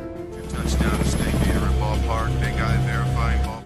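A helicopter drones steadily throughout, with a voice talking over the engine noise.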